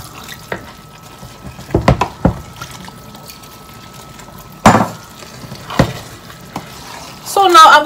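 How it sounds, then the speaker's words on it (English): A little water is poured into rice frying in a pot for Nigerian concoction rice, giving scattered sizzles and stirring clatters, with a louder hiss burst midway and a brief bubbling near the end. "So I'm going to add just little water to it"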